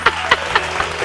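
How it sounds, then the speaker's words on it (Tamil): A congregation at a Tamil Sunday church service claps hands in a steady rhythm, about five evenly spaced sharp claps, moderately close, with no talking over them. "கைதட்டு."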